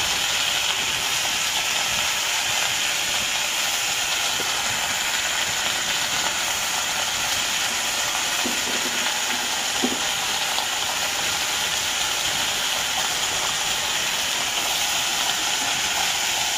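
Dheki shak fern greens hit a hot frying pan and sizzle with a steady, loud hiss that holds evenly throughout, with no talking.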